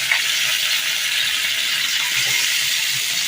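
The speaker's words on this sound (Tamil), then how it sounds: "இப்போ வந்து உப்புமாவை நம்ம ஆட் பண்ணிக்கலாம்." Idli upma stir-fried in a pan with curry leaves, a loud steady sizzle and hiss with soft scraping from stirring, close by.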